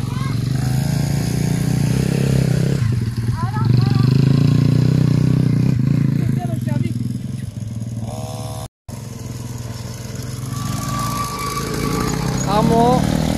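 Motocross motorcycle lapping a track, its engine droning loud and steady with rising and falling revs as it passes, briefly cutting out near the end; voices talk over it throughout.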